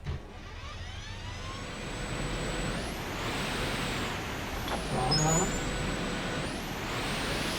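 A truck drives along in the video game The Infected, a steady engine rumble with rolling road noise and rising, falling whines from the motor, with a voice speaking over it.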